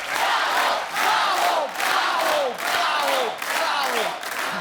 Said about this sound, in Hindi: आप सबकी जोरदार तालियों के बीच मैं इनवाइट करना चाहूंगा all the way from West Indies mister Bravo.